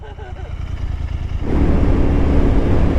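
A 2022 car breaks into a burnout, a loud roaring engine with spinning tires swelling into dense, sustained noise after a brief stretch of voices and lower engine rumble.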